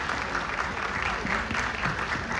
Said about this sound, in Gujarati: તાળીઓથી તેમનું સન્માન કરશું.